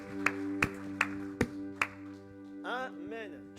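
Sparse, evenly spaced claps ring out in a church service, about half a dozen crisp, separate hits over a soft sustained tone, followed by a voice.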